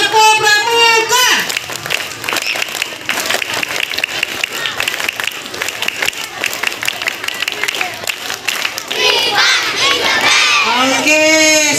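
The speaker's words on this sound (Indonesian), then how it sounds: "Dua kali tepuk pramuka." Elementary schoolchildren perform the scout clap twice at a school arts performance, a dense crowd of rapid rhythmic clapping with shouted chants, the voices of kids and a leader heard at the start and end.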